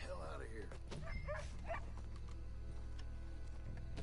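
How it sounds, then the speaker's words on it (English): In the video game Red Dead Redemption, a dog yips and barks a few times early on, fairly faint and partly buried under steady game ambience and music, with a voice talking over the scene. "There is a dog around here somewhere, as we heard the bark"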